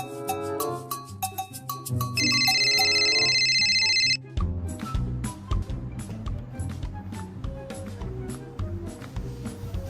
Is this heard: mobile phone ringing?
yes